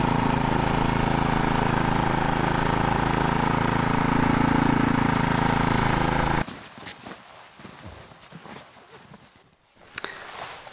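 Snowblower engine running steadily and loud at a dog sled kennel in winter, a dense mechanical drone that cuts off abruptly partway through, leaving quiet scattered clicks and faint movement.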